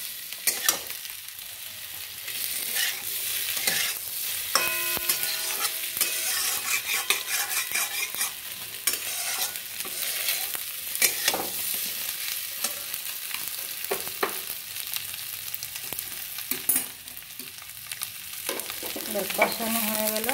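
Masala for a potato and paneer curry is stir-fried in a kadai with very little oil, giving a continuous soft sizzle broken by repeated scraping and clinking strokes of a spatula against the pan, with no talking.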